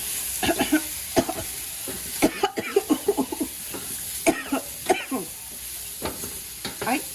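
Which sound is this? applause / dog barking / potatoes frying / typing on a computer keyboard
potatoes frying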